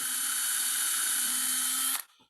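A drill bores slowly through a lathe-turned wooden camper's cup, a steady high whine with a low hum beneath that holds for about two seconds, then stops abruptly and winds down.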